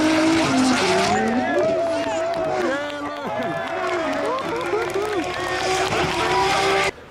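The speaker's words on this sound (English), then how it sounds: "listen out for his engine and watch the tyre smoke on the rear of his car" A drift car in a D1NZ battle drops completely off throttle with its rear tyres smoking and squealing, its engine note wavering and dipping before it revs back up hard, loud and close.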